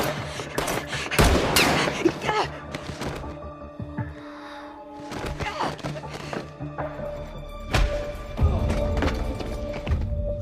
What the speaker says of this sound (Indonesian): Tanpa ragu, ia menembakkan peluru ke arah Jong, dan satu tembakan berhasil mengenai kakinya